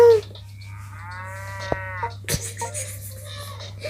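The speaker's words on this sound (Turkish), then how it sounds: "Arkadan inek sesi geliyor." A cow in the video game PK XD moos in a long, drawn-out low call, followed by a few sharp clicks and soft electronic blips over a steady background hum.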